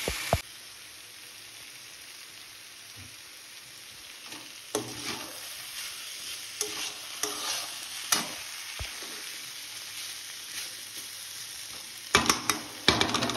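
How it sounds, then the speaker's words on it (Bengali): Onion frying in a pan with pointed gourd and potato in a village kitchen: a steady low sizzle punctuated by sharp spatula scrapes and clinks, busier toward the end. "চলো এবার পেঁয়াজটা দিয়ে দেওয়া যায়"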